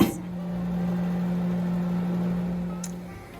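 A microwave oven heating sweet potatoes gives a steady, close electrical hum after a short click at the start, with a small clunk near the end and no speech.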